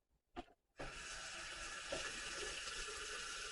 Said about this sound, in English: now I'll turn it on in the faucet